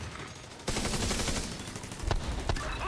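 Automatic weapon fire in The Division, a loud dense burst of rapid shots kicking in after a quieter opening, with sharper single cracks standing out near the end.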